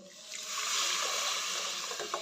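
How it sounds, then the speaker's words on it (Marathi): Boiled water is poured into semolina and milk in a pan, a short burst of hissing, bubbling splash that swells briefly and settles, with no talk. "नंतर दोन वाटी पाणी घालते उकळलेलं पाणी आहे हे"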